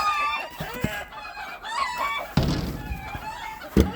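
Chickens squawk and cackle in agitated bursts, with loud clucking calls and a brief crow, alongside a couple of sharp knocks nearby.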